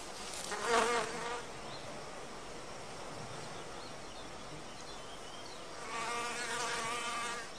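A male wasp flies around a wild orchid, its buzzing wingbeat rising loudly near the start, dropping to a faint background hum, then swelling again toward the end.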